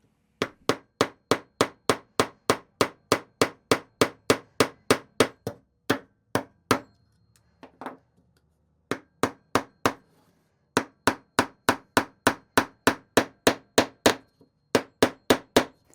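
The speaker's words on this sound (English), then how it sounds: "All I really need to do now is nail on a hanger so we can hang this frame up." A hammer drives nails to fix a hanger onto a picture frame, with loud, close, evenly spaced strikes in long runs and a few brief pauses between bursts.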